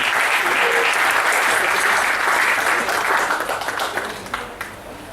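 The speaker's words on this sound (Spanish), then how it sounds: "Un aplauso, sí." An audience at a talk breaks into loud, sustained applause that gradually thins and fades toward the end.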